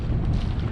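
Steady wind gusting at about 12 knots over an anchored sailboat in the bay of St Tropez in winter, a continuous loud rumbling roar buffeting the microphone throughout, with no voices.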